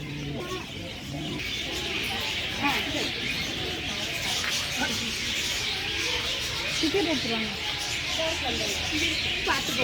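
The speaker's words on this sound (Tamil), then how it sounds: "இப்போ இது வந்து மாலத்தீவு புறா" A Maldives pigeon coos among other chirping birds at a bird park in Thanjavur, its calls steady against a busy background of bird calls and people talking nearby.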